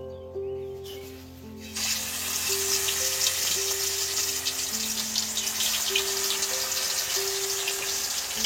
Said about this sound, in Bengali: এই যে মাছগুলো আমি নুন হলুদ আর তেল মাখিয়ে রেখে দিয়েছি সেইগুলো এবার একটা একটা আমি ভেজে নেব